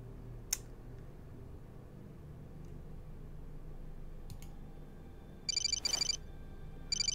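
A cell phone rings in the hidden-object video game Fright Chasers 2: Soul Reaper, a few short electronic ring bursts near the end after quiet clicks and faint game ambience.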